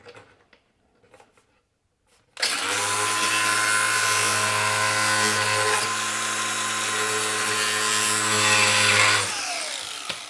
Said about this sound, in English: The Dremels are nice because the blades are just big enough where you can Get cut through. in that 1/2 inch